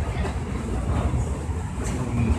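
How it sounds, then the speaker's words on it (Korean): Fast train running from Salzburg to Munich, heard from inside the carriage as a steady, loud, continuous rumble and rushing noise with faint rail clatter throughout. "기차가 지금 엄청 빠른 속도로 가고 있는데"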